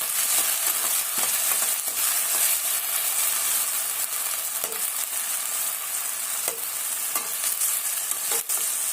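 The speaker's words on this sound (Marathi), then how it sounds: "परतून घ्यायचा आहे व्यवस्थित" Steamed sabudana sautés in hot oil in a pan for a fasting dish, with a steady bright sizzle and occasional soft scraping stirs throughout and no talking.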